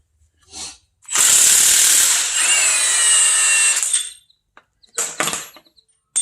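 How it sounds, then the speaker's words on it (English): A Milwaukee M18 Fuel impact wrench loosens the crank pulley bolt on an LS3 V8, giving a loud sustained burst of roughly three seconds followed by a few short quieter bursts, with no talking. "I've had good luck with this Milwaukee M18 fuel impact"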